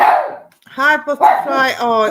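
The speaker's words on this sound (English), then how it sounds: "excuse my dog. Next door's dog set him off again." A pet dog barks and yips near the microphone indoors, with short sharp barks mixed in with a person speaking briefly over them.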